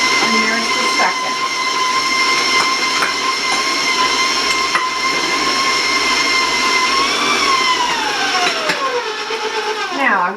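A loud electric stand mixer whirs steadily as eggs are beaten one at a time into chocolate apple nut brownie batter, its motor pitch sliding downward near the end as the speed changes.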